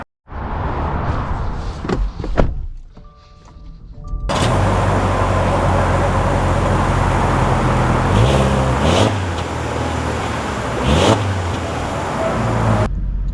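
A 2025 Subaru Forester Limited crossover sets off: a door thud and brief handling noises, then a steady engine and road hum as the car pulls away and keeps driving at an even, fairly loud level.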